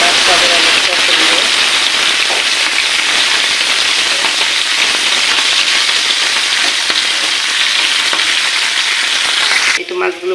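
Fish frying in hot oil in a home kitchen, a dense, loud, steady crackling sizzle that runs unbroken for the whole stretch and cuts off abruptly at the end.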